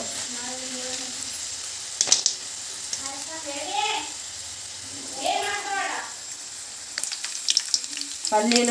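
Peanuts fry in hot oil with garlic, giving a quiet, steady sizzle and hiss, with people's voices and a few short clinks over it.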